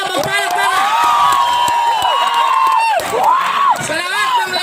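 Stand-up comedy audience reacting loudly, dense cheering, whoops and shouts from a close crowd throughout.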